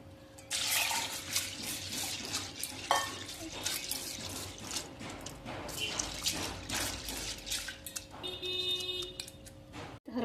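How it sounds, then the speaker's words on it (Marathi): Chana dal lentils are rinsed in water, with splashing, pouring and rubbing sounds close by in bursts, ending with a few dripping and clinking sounds. "आता लगेच मी इथं डाळ पण धुवून घेणार आहे"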